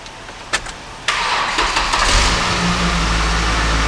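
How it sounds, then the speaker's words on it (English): A car engine cranks and fires after a jump start, with a couple of short clicks, then a sudden catch into a loud, steady idle. "let's go ahead and let's crank it and just make sure that it starts up"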